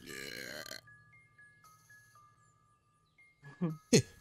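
A baby dragon in Spyro Reignited Trilogy lets out a short, loud cartoon burp near the end, after a voice and a few soft game chimes.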